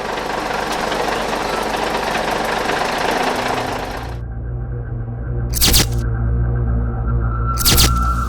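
Bus engine idling at a busy bus station, a steady low mechanical rumble with rattling texture, broken twice by short loud bursts of noise.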